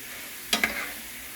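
Onions and garlic sizzle quietly in a pan on high heat while a utensil scrapes through them in one brief, sharp stir.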